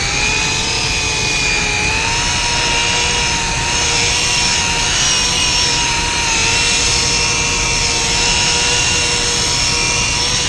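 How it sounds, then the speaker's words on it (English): A polisher spins on clear coat while a paint run is removed, a loud, continuous whine with steady tonal layers that shift slightly in pitch, heard up close with no talk. "polisher is spinning this way"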